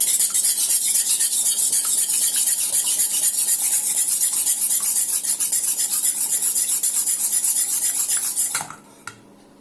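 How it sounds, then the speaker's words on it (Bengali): Two eggs beaten by hand in a bowl for bakery-style cake batter, a steady fast scraping whisk-against-bowl rhythm running continuously and close, then stopping abruptly near the end with a brief clink. "আর 2টা ডিম নিয়েছি, ডিমটাকে এখন ভালো করে ফাটিয়ে নিতে হবে।"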